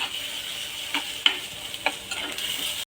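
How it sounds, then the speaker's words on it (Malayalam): Kichadi being stirred in a pan over heat, with a steady soft sizzle and several distinct scraping strokes of the spoon, close and clear, no voices. "ഞാനൊരു സ്വല്പം വെള്ളം ഒഴിച്ച് കൊടുക്കുവാണേ"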